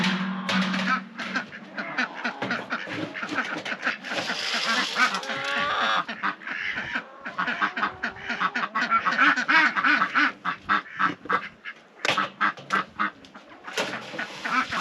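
Ducks quack repeatedly in a busy, overlapping chorus, with some chicken-like clucks mixed in, fairly close and continuous throughout.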